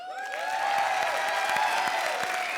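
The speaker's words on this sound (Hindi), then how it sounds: "अरबाज के लिए ताली बजाओ" Applause from a studio audience at a comedy show, a steady dense patter of clapping sustained throughout with light cheering mixed in.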